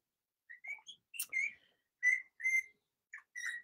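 A rosella parrot whistles short clear notes in small bursts with gaps between, fairly faint and alone in a quiet setting.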